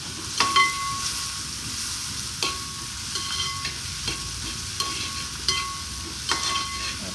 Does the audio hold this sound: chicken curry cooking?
yes